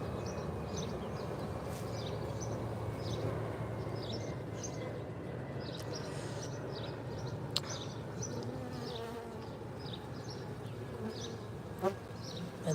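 Honey bees buzz steadily and close around an open hive, a dense continuous drone with individual insects darting past near the listener, under low outdoor rumble and no talking.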